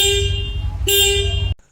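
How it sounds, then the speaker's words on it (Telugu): The horn of a 2026 Bajaj Pulsar NS125 125cc motorcycle honks close and loud in a short two-part blast, then cuts off abruptly. "అలానే ఇంకా ఈ బైక్ హార్న్ సౌండ్ వినడానికి ఎలా ఉంది."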